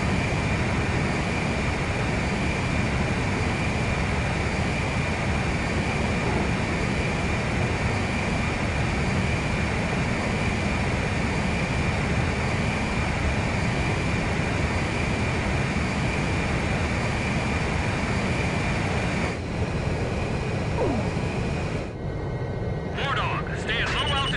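Jet engines roar steadily during a mid-air refueling mission in the Ace Combat 5 video game: a continuous, dense rumble that fills the scene, with voices talking over it and a brief shift near the end.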